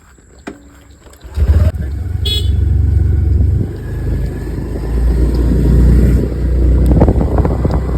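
A car is heard in motion, with a loud, close, steady engine and road rumble that swells after a quiet start and continues without speech.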